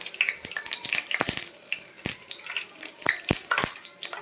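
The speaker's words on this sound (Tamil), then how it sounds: "எண்ணெய் நல்லா காஞ்சதும் கொஞ்சமாக கடுகு கொஞ்சம் சீரகம் வெந்தயம்" Mustard, cumin and fenugreek seeds sputter in hot oil for a Tamil vatha kuzhambu, with rapid sharp pops and crackles over a steady sizzle and occasional clinks of a pan.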